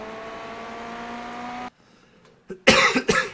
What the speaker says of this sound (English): Pardon me, still got that cough.